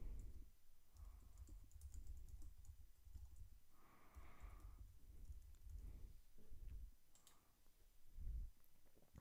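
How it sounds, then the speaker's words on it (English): Someone types an email address on a computer keyboard, producing quiet, close key clicks in uneven bursts and short runs against a faint background. "And I'll just type in my email address."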